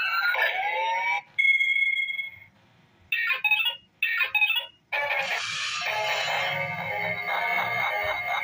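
An Elite Robo toy robot glitching emits electronic beeping and warbling tones in bursts, loud and close, with short gaps between them, then a steadier buzzing electronic chatter.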